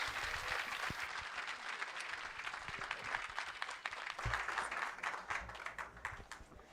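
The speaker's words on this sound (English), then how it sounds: "A round of applause to Mrs. Nadine as she makes her way on the stage" An audience at a Partners In Health celebration in Rwanda breaks into sustained applause as Nadine Karema walks onto the stage, a continuous wash of clapping heard alone for several seconds.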